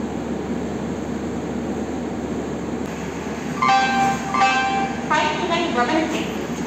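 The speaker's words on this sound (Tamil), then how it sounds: "5:30 மணிக்கு இந்த ட்ரெயின் இங்கிருந்து கிளம்ப போகுது." A Madurai–Tirupati summer special express train runs with a steady rumble of rolling wheels, and tonal horn or whistle-like sounds come in over the noise in the second half.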